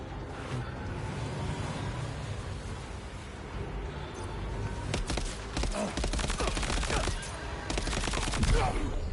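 Rapid bursts of gunfire from a vehicle-mounted weapon in Death Stranding 2 rattle over a rumbling game background, becoming dense and continuous in the second half.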